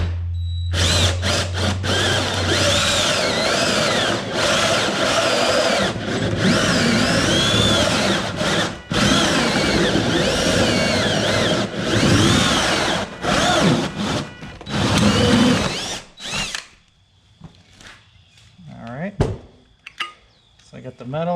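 A power drill cuts through the thin metal wall of a tiny camper, making a loud, continuous, close grinding whine with metallic rattling for about sixteen seconds before stopping, followed by scattered scraping and handling noises.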